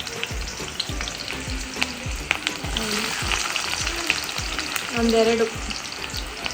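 Two large onions hit hot oil for Kannada-style egg rice, setting off a steady sizzle dotted with low knocks of a spoon stirring in the pan, while a voice speaks briefly over it.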